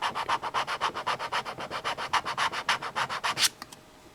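A card edge scraped back and forth over wax-filled crayon grooves cut into a surface, making a steady rhythm of about twenty close, raspy strokes, then a brief trailing scratch before it stops; nobody speaks.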